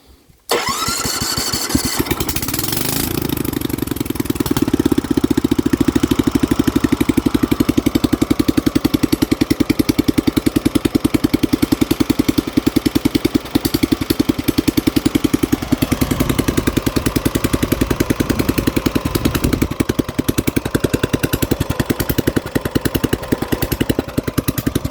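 Honda HT-R 3009 lawn tractor engine starting after a few cranks, then settling into a loud, steady running drone that continues alone for the rest of the clip.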